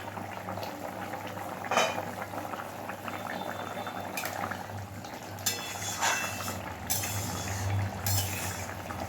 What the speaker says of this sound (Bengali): ঝোলটা আমাদের খুব ভালোভাবে ফুটে গেছে।